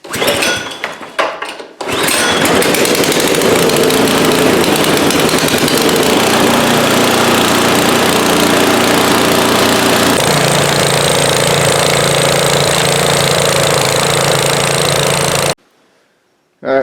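A Husqvarna 12527HVX snow blower engine, said to stall and run rough, roars loudly and steadily after a few brief clunks at the start, its tone shifting partway through before cutting off abruptly near the end.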